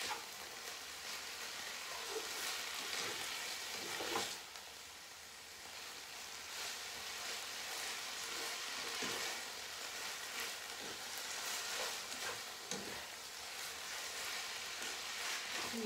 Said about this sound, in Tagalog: Halo-halo para mahalo yung mga ingredients.